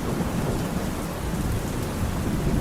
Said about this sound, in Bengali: রাত হলো, বৃষ্টি এখনো ঝরছে, ঝড় এখনো গর্জন করছে।